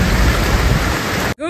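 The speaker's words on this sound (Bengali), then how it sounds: "রোদ যাচ্ছে, এত বৃষ্টি হচ্ছে।" A downpour of heavy rain on a rooftop makes a loud, continuous broadband wash that cuts off abruptly near the end.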